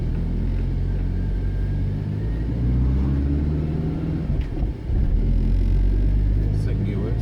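Mitsubishi GH Sigma car engine driving on the road, a loud, close, steady low rumble with slight rises and dips as it runs, while someone talks over it.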